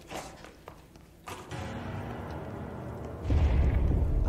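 An explosion goes off in the video game Control, a deep booming rumble that swells in near the end after a quieter stretch of low hum and muffled thuds.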